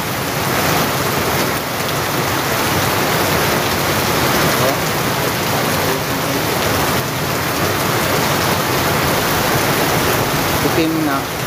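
Muddy water gushing and overflowing out of a hole, a continuous loud broadband rushing and splashing wash throughout, with a voice speaking over it.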